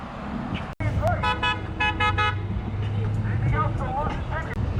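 Passing cars sound several horn honks in short bursts at a roadside protest held during the 2020 pandemic, over steady traffic noise with people talking nearby.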